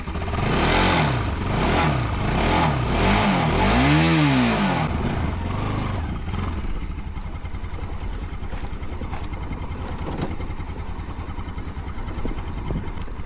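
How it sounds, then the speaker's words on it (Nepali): A motorcycle engine being started in cold weather on a hill road in Gorkha, Nepal, rising in revs with wavering pitch before settling into a steady, loud idle-like chug that continues throughout. "अब यहाँ बाइक फेरि अन पनि भन्दैन चिसोले भेटेर होला"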